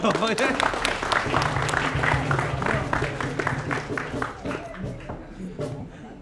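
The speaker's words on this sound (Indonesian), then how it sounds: "Ya sudah, tepuk tangan dulu kalau." Audience applause at a school debate-style event at SMA Negeri 9 Palembang, clapping loud at first and tapering off over several seconds, with crowd murmur and voices mixed in.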